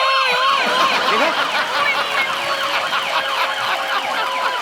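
A man on a comedy stage show imitates an ambulance siren with his voice, rising and falling wails sustained for several seconds, loud and close, with crowd noise underneath.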